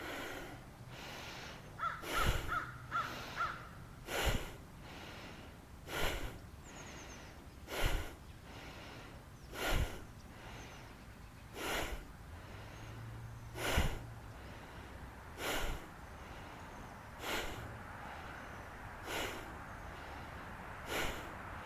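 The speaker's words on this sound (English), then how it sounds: "through the nose. Inhale, exhale. Let's do another 10 times. Inhale, exhale." Forceful yoga power breathing through the nose, a steady series of sharp, rhythmic nasal inhales and exhales spaced about every two seconds, close and clear with no talking.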